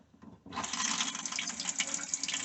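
Hot water gushes from a bathroom faucet inside a 1990 Chinook camper. It starts abruptly after a brief near-silence and then pours in a steady, loud, hissing stream with no voices.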